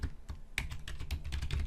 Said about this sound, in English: So here we can just type